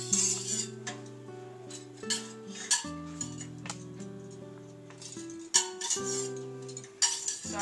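Flour being stirred into melted butter in a pan for smothered burrito gravy: a utensil scrapes and clinks against the metal pan in irregular strokes, close and fairly quiet, with background music playing.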